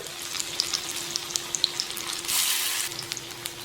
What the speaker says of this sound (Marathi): अशा वड्या तव्यात घालायच्या तळायला अशा लोखंडी तव्यात ना वड्या तळून बघा